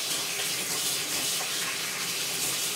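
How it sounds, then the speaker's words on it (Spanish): Tap water runs steadily into a sink, a continuous bright hiss with no voices, as if for washing hands. "Nos vamos a lavar las manos."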